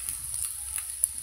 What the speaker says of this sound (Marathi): लसूण पण मस्त फ्राय करून घेऊ. त्यात थोडासा जिरा टाकूया.